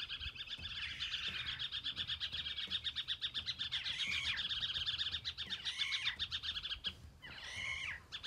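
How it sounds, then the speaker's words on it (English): Dense birdsong at a bush camping spot along the Savannah Way between Far North Queensland and the Northern Territory, Australia, many birds chirping and trilling continuously and close, fairly loud, with no talking. "Listen to the birds."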